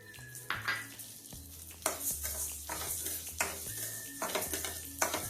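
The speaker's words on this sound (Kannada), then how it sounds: "ನಾನು ಇದಕ್ಕೆ ಈಗ ಹೆಸರು ಬೇಳೆನ ಹುರಿತಿದ್ದೀನಿ" Split moong dal roasting in a pan over a low flame, with repeated scraping and clattering strokes of a spoon stirring against the metal over faint sizzling and soft background music.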